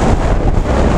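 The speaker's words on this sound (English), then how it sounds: "Extremely windy up here." Strong wind on a mountaintop along the Appalachian Trail buffets the microphone with a loud, continuous roaring rush that never lets up.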